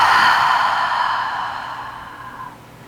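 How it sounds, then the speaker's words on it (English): A long, soft exhale through the mouth during a yoga breathing exercise, a single breathy whoosh close to the microphone that fades out over about two and a half seconds. "Again, fully inhale. And let it go, exhale."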